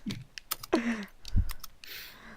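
Quick, uneven clicks of someone typing on a computer keyboard, close and fairly quiet, with a few louder knocks and thumps mixed in.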